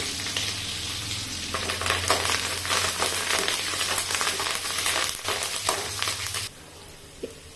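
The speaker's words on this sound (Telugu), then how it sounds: "తర్వాత 2 పచ్చిమిర్చి, ఆనియన్ కాస్త ఎర్రగేంత వరకు వేయించుకుందాం" Green chilies and onion fry in a pan, a steady loud sizzle with stirring scrapes for about six seconds before it drops away to a quieter hiss.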